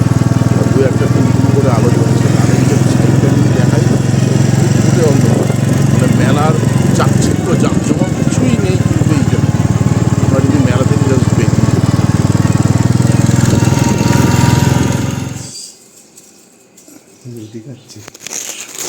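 Motorbike engine droning steadily while riding on a road to a hill, a loud, constant low throb close by with some talk over it, dropping away abruptly near the end.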